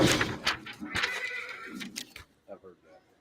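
At a livestock auction in Jones, Oklahoma, a horse gives a loud, close whinny over crowd noise and auctioneer talk, the call trailing off into a few softer snorting pulses.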